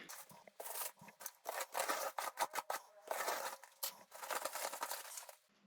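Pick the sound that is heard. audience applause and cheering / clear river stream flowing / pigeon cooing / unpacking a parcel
unpacking a parcel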